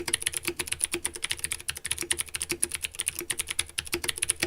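Rapid, steady typing on an EPOMAKER mechanical keyboard fitted with clicky blue switches, each keystroke a crisp, close click in a continuous flurry with no voices.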